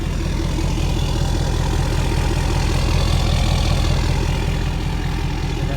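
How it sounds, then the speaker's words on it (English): A Ford 6.7L Powerstroke diesel pickup with an aftermarket exhaust idles close by. It gives a loud, steady, low rumbling clatter with a faint whine over it, even and unbroken throughout. "here's the turbo in a second"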